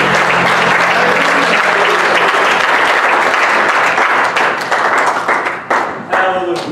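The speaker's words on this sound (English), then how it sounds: "Let's clap our hands before we sing." A church congregation claps hands together at a Pentecost Sunday service, a loud, dense and steady wash of clapping that fills the room and thins slightly near the end.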